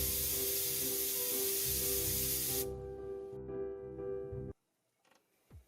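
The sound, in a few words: airbrush spraying texturing liquid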